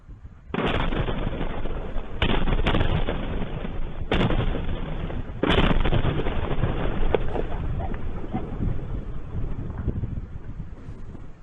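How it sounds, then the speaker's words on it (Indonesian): Airstrikes on the Al-Dir area of Basra province, Iraq, set off a series of booming explosions. Several sharp blasts land over a few seconds and leave a loud, rumbling, wind-buffeted roar in between. "Serangkaian ledakan terdengar di kawasan Al-Dir, Provinsi Basra"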